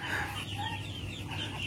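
Muscovy ducks on a farm give soft, breathy trills and low clucking murmurs close by. The sounds run together with no pause for under two seconds.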